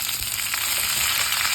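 Lentils, shallots, garlic, curry leaves and ripe tomato roast in a pan with a little oil, giving a steady close sizzle and crackle.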